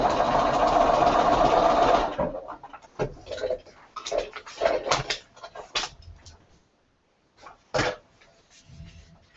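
Sewing machine running steadily for about two seconds, then a series of short clicks, taps and brief bursts of stitching with pauses in a quiet room.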